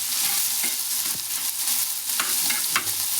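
Masala pav vegetable filling cooks in butter with a steady close sizzle, broken by a few scraping stirs of a spatula against the pan.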